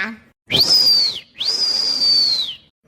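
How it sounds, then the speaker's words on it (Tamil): A nurse blows a whistle at a cattle vaccination site: two long, loud, steady blasts close by, separated by a brief gap. "இந்த நர்சம்மா விசிலூதியே கெடுத்து விட்டுட்டாவல"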